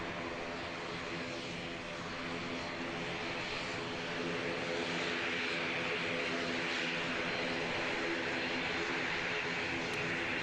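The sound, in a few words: Pilatus PC-12 turboprop aircraft taxiing at Christchurch Airport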